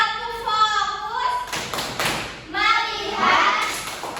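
A class of children performs a rhythmic clapping-and-chanting focus routine led by a teacher, with bursts of claps and taps under young voices.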